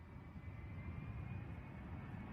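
A small private plane in flight just before it crashes: a faint, steady engine drone with a broadband rumbling roar that holds evenly throughout and has no speech over it.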